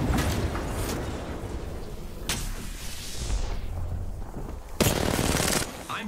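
Incoming gunfire in the battle royale shooter Apex Legends, with dense bursts of shots and impacts that come in sharp clusters over a constant game din, loudest in a final heavy burst.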